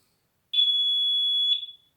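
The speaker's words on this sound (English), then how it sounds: "yes, the buzzer is strong," A WEN GE YX-961TR analog multimeter's continuity buzzer gives one loud, steady, piercing tone for about a second against silence, then cuts off with a short fading tail.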